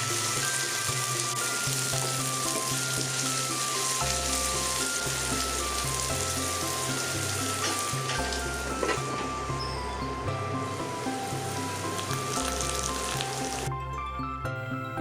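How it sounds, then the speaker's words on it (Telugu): A cup of chopped capsicum fries in a pan for egg shakshuka, giving off a steady, even sizzle from start to finish beneath continuous background music. "తర్వాత 1 కప్ క్యాప్సికమ్ కూడా వేసి ఫ్రై చేసుకోవాలి."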